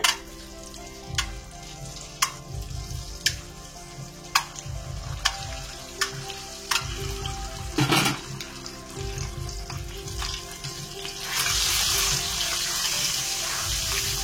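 Eggs fry in hot oil seasoned with salt and turmeric powder, a constant close sizzle punctuated by sharp pops and spatters, growing hissier near the end; no talking.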